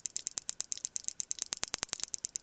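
Underwater clicking from a sperm whale beside longline gear set for sablefish. A quick run of evenly spaced ticks turns into a burst of louder, sharper clicks partway through, with no talking.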